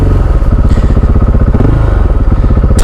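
A KTM 690 SMC R supermoto motorcycle being ridden, its engine loud and close with a steady, throbbing drone that holds throughout and rises slightly in pitch midway.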